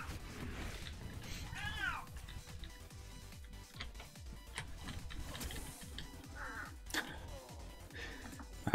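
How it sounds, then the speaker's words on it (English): A pet cat meows a few times in the background, faint and intermittent beneath game audio and talk during a World of Warcraft session. "I don't know if you can hear my cat in the background"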